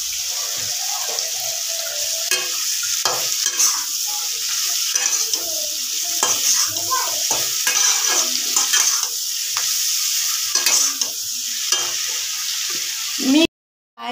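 Beans cooking in a pan with turmeric and salt are stirred, producing a continuous soft sizzle under repeated scraping and clattering spoon strokes, close and fairly loud, ending abruptly.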